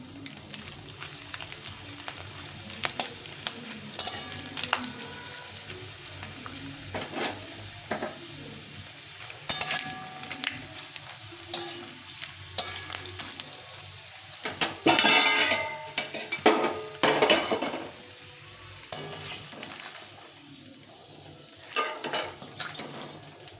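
Homemade sun-dried potato chips deep-frying in hot oil give a steady close crackle, broken by sharp clatters and scrapes of a utensil against the pan throughout.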